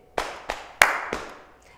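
Close, dry body percussion of patting and clapping hands, four crisp strikes at an even pace with a bright clap standing out third, alone in a quiet space.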